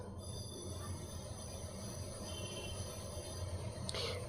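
Interior of a moving passenger train, heard from a window seat: a steady low rumble of wheels on track with faint rattling carriage noise and a brief higher squeal near the end, no voices.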